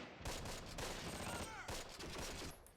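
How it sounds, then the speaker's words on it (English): Mortar barrage in the Close Combat: The Longest Day WWII strategy game: a rapid flurry of overlapping explosions and gunfire cracks, dense and continuous but quiet overall, with a voice talking at points. "Oh, just mortaring the hell out of them."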